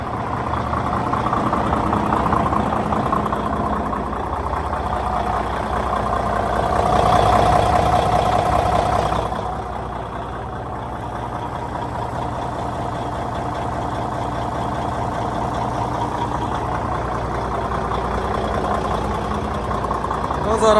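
A DAF 95 truck's Cummins N14 diesel engine idles steadily with a low, rumbling purr, swelling slightly for a few seconds midway, while faint voices talk in the background.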